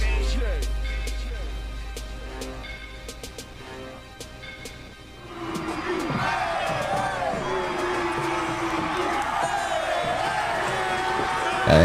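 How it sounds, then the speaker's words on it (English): A crowd cheers and whoops as a Friday Night Lights song ends, the noise swelling midway from a quieter musical stretch into sustained, fairly distant roaring with scattered shouts. "you hear them cheering as we end that song"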